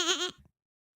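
A goat's single short bleat, loud and close, wavering for about a third of a second before cutting to silence, with no talk around it.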